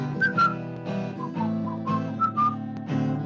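Someone whistles the tune of a song, a clear melodic line of sliding notes over a backing of sustained accompaniment, close and moderately loud, with no talk.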